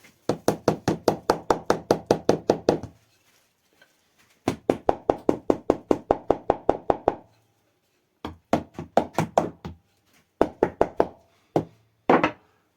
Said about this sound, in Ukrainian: Постукаємо і